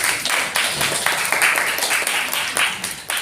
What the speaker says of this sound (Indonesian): Teman-teman ayo tepuk tangan